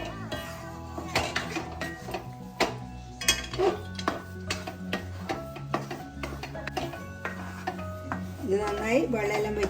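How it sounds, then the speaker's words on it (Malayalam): Semolina rava kesari, tinted with a pinch of turmeric, is stirred in a pan as the water cooks off: a steady run of scraping and knocking against the metal, close up and fairly loud, over a faint tonal background. "ഇതിന് നന്നായി ഇളക്കി കൊടുക്കാം."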